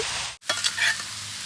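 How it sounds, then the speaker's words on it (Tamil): Chicken pieces frying in oil over medium heat crackle and sizzle up close while being stirred, with a momentary dropout before the steady frying noise resumes. "இந்த சிக்கன் எண்ணெயிலே நல்லா வதங்கிடுங்க, அது வரைக்கும் கிளறி கொடுத்துக்கிட்டே இருங்க"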